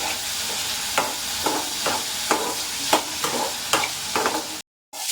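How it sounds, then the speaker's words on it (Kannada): Spices and ingredients fry and are stirred in a pan for a Malnad village-style egg and chicken sambar, with a steady sizzle broken by regular scraping strokes of the spoon about every half second, close up and with no talk. "ನೋಡಿ ಇಷ್ಟು ಫ್ರೈ ಆಗಿದೆ ಸಾಕು."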